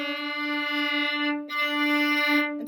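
A viola sustains a bowed note and slides upward toward a D, with a brief break in the middle before the tone resumes, clear and close, with no talking.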